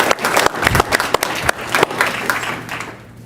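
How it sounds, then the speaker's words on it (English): Board of education meeting crowd gives a short round of applause, individual claps standing out sharply at first before thinning and tapering off near the end. "A little round of applause for our bus drivers."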